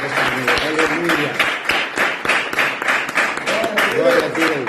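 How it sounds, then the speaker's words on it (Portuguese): A church congregation clapping together in a steady rhythmic beat, loud and close, while voices sing or call out over the clapping. "Vamos aplaudir ao Senhor."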